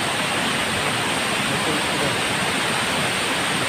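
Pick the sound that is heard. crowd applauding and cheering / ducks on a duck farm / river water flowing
river water flowing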